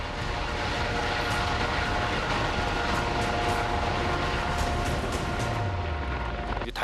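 A mountain rescue helicopter airlifting a hiker badly injured in a 10 m fall: a loud, steady roar of engine and rotor wash, close by and unbroken throughout, with no voices.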